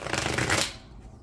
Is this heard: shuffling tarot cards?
yes